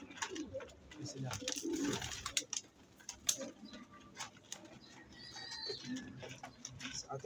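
Pigeons in a fancier's loft coo softly in the background, with scattered rustling, ticking and clicks, some nearby activity around them.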